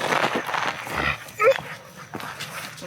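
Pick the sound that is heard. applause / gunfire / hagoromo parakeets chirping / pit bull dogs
pit bull dogs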